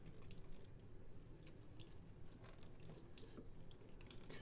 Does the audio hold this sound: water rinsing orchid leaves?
yes